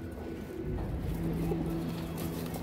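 A fresh club pigeon coos in low sustained tones over a steady background hum, close and quiet, with no talk.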